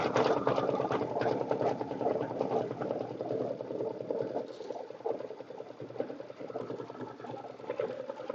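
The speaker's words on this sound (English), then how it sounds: "So it's doing that gorgeous decorative stitch" A sewing machine runs a decorative stitch for a quilted Christmas wall hanging, with a fast steady mechanical whir and rhythmic needle clatter that continues without pause, close up and alone.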